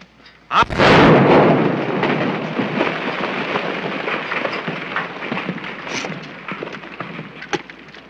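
Gunfire in an old western film, one loud blast followed by a long rolling echo and rumble that fades slowly, with a few fainter sharp reports later on.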